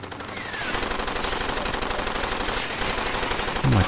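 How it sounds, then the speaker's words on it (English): Loud, continuous automatic gunfire in the video game Far Cry 2, a rapid rattling burst sustained throughout with dense overlapping shots. "Where's the guy shooting?"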